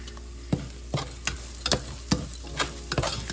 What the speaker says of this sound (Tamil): அதையும் போட்டு நீங்கள் நல்லா வந்து ஃப்ரை பண்ணுங்கள்